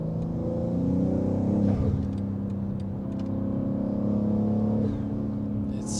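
A 650 hp Manhart-tuned BMW M3 Touring accelerates hard on the Autobahn. A loud, continuous engine roar is heard from the cabin, building steadily with one brief dip as it shifts.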